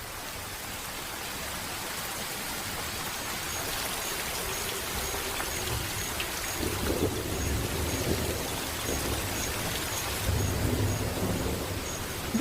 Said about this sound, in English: Some places receive so much rain that water courses over every surface.